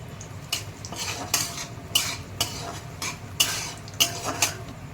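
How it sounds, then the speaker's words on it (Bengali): Cashews and chopped pistachios are stirred in a pan for a semolina-style lentil halwa, a spoon scraping and clinking against the metal in a steady run of sharp knocks over a soft low sizzle, close and clear. "এই এমন বাদাম দিলাম আর একটু পেস্তা দিলাম কুচি করে রেখে দিয়েছিলাম এটা একটু নেড়ে ছেড়ে ভেজে নেব"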